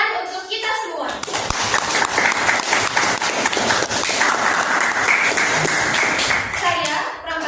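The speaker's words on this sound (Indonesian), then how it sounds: "Tepuk tangan untuk kita semua." A class of ninth-grade students at an Islamic junior high school applauds at the close of a classroom discussion, loud, close, continuous clapping that rises after a moment and holds steady, with children's voices mixed in.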